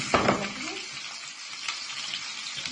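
Potatoes hit hot oil in a pan and fry with a sharp initial crackle, then settle into a steady close sizzle with light stirring scrapes.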